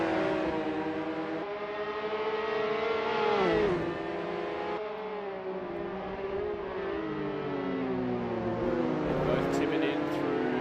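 Can-Am Mini race cars tip into a hairpin on the Adelaide street circuit, engines droning and shifting pitch as they brake and accelerate. A commentator talks over the engines throughout.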